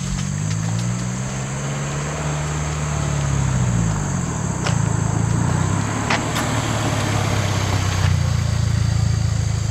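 A Subaru WRX fitted with an Invidia R400 exhaust idles with a deep, steady low rumble that wavers slightly in pitch, while a high insect-like whine and occasional ticks sit above it.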